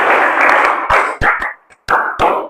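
A class of vocational high school students claps together in a loud, dense burst, then breaks into short rhythmic groups of claps separated by a brief pause, all close and without talking.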